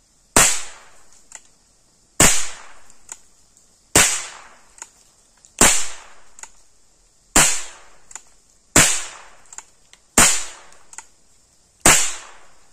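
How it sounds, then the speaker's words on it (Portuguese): A Rossi R8 air rifle fires eight sharp, loud cracks in quick succession, each evenly spaced about a second and a half apart with a short ringing tail and no talking. "Agora 8 tiros assim, vamos lá."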